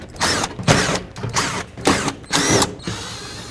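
Power ratchet tool spinning out 10mm bolts from the liftgate plate of a 2001-07 Toyota Sequoia, five short whirring bursts in quick succession with brief pauses, close and loud, no talking.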